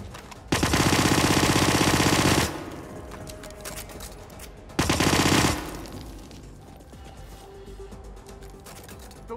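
Two long, loud bursts of automatic gunfire in the Hitman video game, set in a workshop, each lasting about two seconds and separated by a quieter gap filled with low game ambience.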